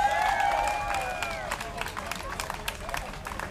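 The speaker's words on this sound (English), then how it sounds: "how about a big round of applause for Rosie?" Crowd applause and light cheering at a National Night Out neighborhood gathering in Roslindale, mixed with babble and voices talking nearby, clapping fading into scattered claps over a few seconds.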